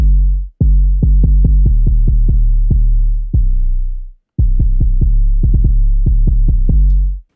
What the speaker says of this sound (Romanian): 808-ul care e cam așa.